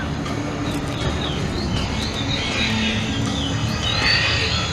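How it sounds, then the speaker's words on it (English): Bird sound effects chirp and whistle from a phoenix display in the Blackpool Illuminations, high and intermittent above a constant wash of outdoor crowd and street noise. "You can hear the bird noises."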